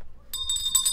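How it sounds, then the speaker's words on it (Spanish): A small hand bell rings in a few bright, sustained tones against a quiet background, packed by a child for a play outing. "una campana por si nos perdemos otra vez"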